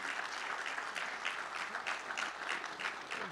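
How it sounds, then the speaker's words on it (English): A church congregation applauds after a bulletin announcement, steady dense clapping from many hands filling the room for a few seconds. "But give them a round of applause."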